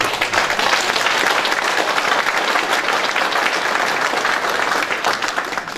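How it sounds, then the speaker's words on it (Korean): A Korean community ceremony audience gives a retiring director a round of applause: dense, steady clapping that holds strong for nearly six seconds before tapering at the end, with no speech over it. "국장님한테 박수 한번 보내주시죠"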